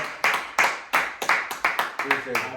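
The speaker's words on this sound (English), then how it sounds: "Clap it up for him." A small group claps loudly and close by, about nine irregular sharp claps over a couple of seconds in an indoor podcast setting, with voices murmuring underneath toward the end.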